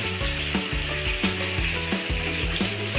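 Onion, tomato and spices for a Bengali doi katla fish curry fry in a pan, with a steady close sizzle under a regular rhythm of spatula scrapes about every half second, no voices.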